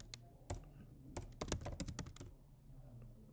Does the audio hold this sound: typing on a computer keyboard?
yes